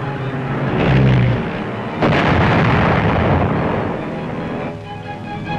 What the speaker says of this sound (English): Using some old German battleships as targets, Billy Mitchell showed what precision bombing could do.